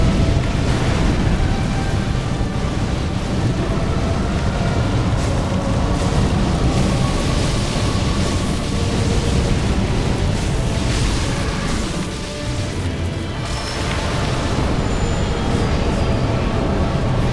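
Loud, sustained rumbling roar of an explosion in the Dark Souls 3 game, a dense low boom that fills the whole stretch with little change, dipping only briefly near the end.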